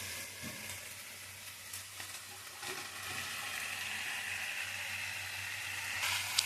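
Chicken pieces sizzle in hot oil in a pan while cooking a green chilli chicken curry, a steady soft frying hiss with faint stirring clinks, no talking.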